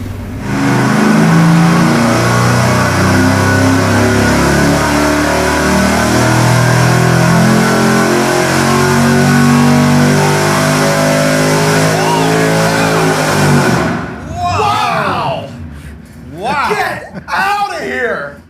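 A stock engine with a supercharger on a 3.7-inch pulley, running about 18 pounds of boost with slight belt slip, roars loudly on a dyno in a long sustained pull, then cuts off, leaving people talking and chuckling nearby.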